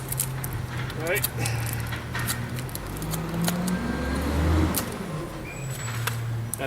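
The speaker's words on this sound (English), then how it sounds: "Got a truck in the background." A truck rumbles low and steady in the background outdoors while someone talks over it, with occasional light metallic clinks.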